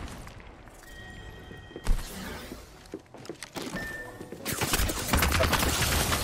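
Bursts of gunfire in an online battle royale video game, rapid crackling shots and impacts building into dense continuous fire toward the end, with no talk.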